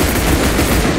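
Gunfire from the battle royale video game Cuisine Royale, a dense, continuous burst of loud rapid shots filling the whole moment without pause.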